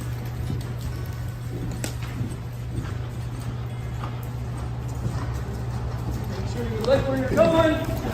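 A horse's hooves clip-clop at a walk and trot around a training circle during colt starting, steady rhythmic thuds over a constant low hum, with voices and livelier movement toward the end.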